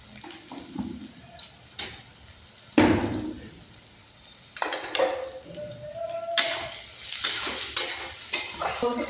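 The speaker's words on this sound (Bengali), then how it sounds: "এখন কাঁচা লঙ্কা, পেঁয়াজ, স্বাদ মতন লবণ" Green chilies, onion and salt hit hot oil in a pan, crackling and sizzling with scraping stirs from a utensil, intermittent and close, without speech.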